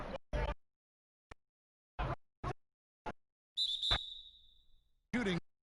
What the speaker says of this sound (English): Whistle blows.